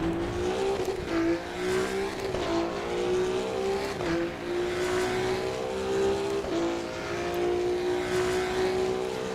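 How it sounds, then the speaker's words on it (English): Race car engine heard from outside in the sim racing game Assetto Corsa EVO, a loud sustained drone whose pitch climbs steadily and drops sharply at each gear shift, with faint tire noise underneath. "Let's just hear the externals engine sound."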